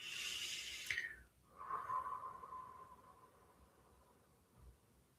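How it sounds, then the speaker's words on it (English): A big, slow exhale during a guided meditation, a long breathy rush of air that fades out, followed by a softer second breath. Close and quiet, with no talking. "Just a breath will do, just a big exhale."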